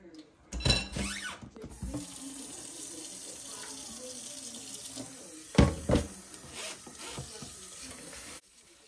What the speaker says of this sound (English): I'm gonna wash my rice now